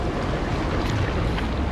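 Broad, steady roar of rushing water surging in as a wall in the Redfall game, a dense, wind-like wash that holds loud and unbroken throughout with no voices.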